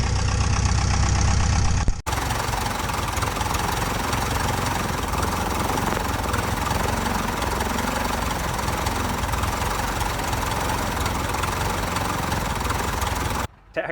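Engine drone of a Piper J-3 Cub taxiing out at Sheridan, a loud, steady propeller-driven hum that continues without letup after a short opening, heard up close from inside the plane.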